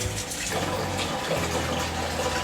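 Water pouring from a tap into a tub being filled to soak jeans for dyeing them black, a steady rushing gush with a low hollow undertone, continuous and close.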